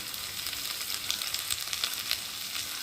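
Potatoes frying in a pan with salt and turmeric added, giving a steady close sizzle with faint crackles and light stirring scrapes throughout, alone without talk.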